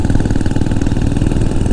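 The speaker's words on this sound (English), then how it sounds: "That's the Velocet thumping along beautifully." A vintage Velocette motorcycle engine thumps steadily and loudly at a low rumble, close up and continuous, with no voices.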